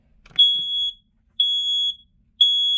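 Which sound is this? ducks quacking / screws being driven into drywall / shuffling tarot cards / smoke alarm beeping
smoke alarm beeping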